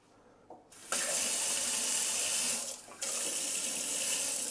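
Kitchen sink tap in a home in Spain running hot and cold water, a steady close rushing stream that starts abruptly, dips briefly midway, then resumes at full strength.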